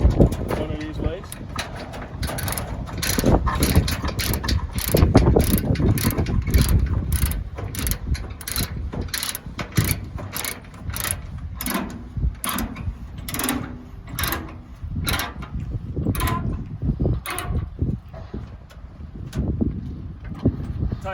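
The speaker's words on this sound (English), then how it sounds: "So we'll grab this front chain and binder. We'll hook it up here. We'll tighten it." A chain binder being ratcheted tight on a transport chain securing a stump grinder to a trailer, giving a long run of repeated metallic clicks and clanks outdoors over steady wind noise.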